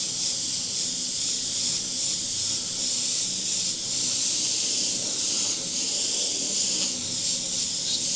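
An airbrush sprays paint in a steady, continuous airy hiss, dusting color over a white base on a meteor artwork. The sound is close and even throughout, with no talking.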